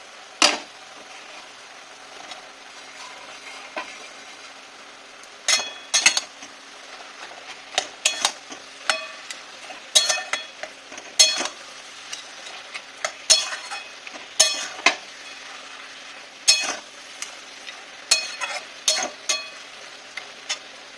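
Fried fish and fish heads go into a pan of cooked pumpkin and greens, bringing a soft steady sizzle with repeated sharp clinks and scrapes of a utensil against the pan that grow busier over the second half.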